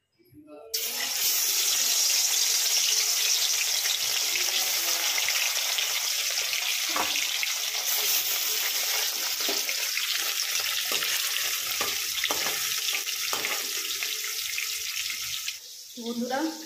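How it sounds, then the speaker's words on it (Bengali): Fish fries in a pan, a continuous loud sizzling hiss that runs almost unbroken for over fifteen seconds. "বন্ধুরা, এখন মাছ টাছ ভাজছি।"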